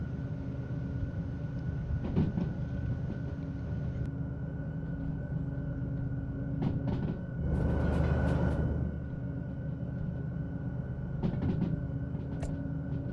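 Locomotive in the Derail Valley train game creeping slowly along the line, a steady low rumble and engine drone with a few brief clanks and a swell of hissing noise partway through, no talking.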